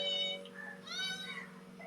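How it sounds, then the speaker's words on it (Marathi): A cat meows twice, the calls close, clear and wavering, with a short pause between them and no talking. "ही मांजर बघा,"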